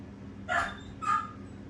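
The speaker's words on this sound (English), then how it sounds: "my dog hates the blender, or anything else that makes noise for that matter" A dog indoors at home barks twice in short, sharp yips at a running blender, fairly close and loud over a low steady hum.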